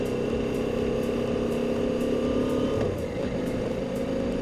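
A KTM Duke 990 motorcycle engine runs at a steady, smooth idle or low rev, a continuous close hum with a slight shift in pitch partway through, with no voices.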